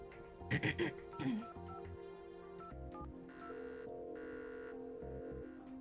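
A phone number being dialed in the game The Red Strings Club: short electronic tones and beeps, then steady synthesized telephone tones in blocks, after a brief throat clearing and vocal sounds near the start.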